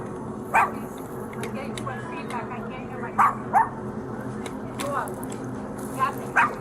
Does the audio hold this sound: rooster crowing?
no